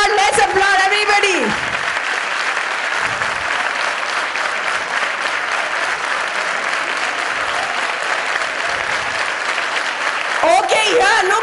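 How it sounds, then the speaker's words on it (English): An audience at an extempore speaking competition claps steadily for several seconds, a dense even applause, with a voice speaking briefly at the start and end. "Let's applaud everybody."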